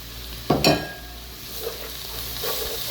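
Okra with onions and spices frying in a pan, with two short bursts of stirring and sizzle near the start, then a low, steady frying hiss.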